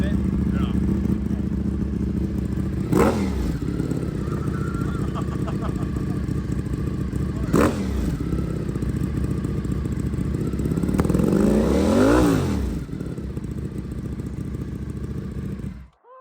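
A Ducati motorcycle with an aftermarket exhaust rumbles deep and steady nearby, with three sharp revs rising and falling, the last one longer, before it cuts off.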